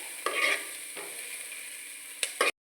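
Green chillies fry in a pan for a fish curry with a steady hiss of hot oil, broken by a few scraping stirs at the start and near the end before the sound cuts off abruptly.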